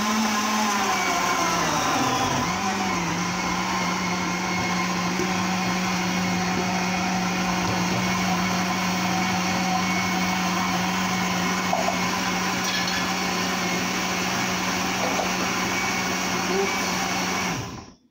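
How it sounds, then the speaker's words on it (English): A kitchen blender whirs steadily as it blends a batch of ingredients, running as a continuous loud motor drone with a low hum for about seventeen seconds before cutting off abruptly at the end. "I'm going to switch my blender on."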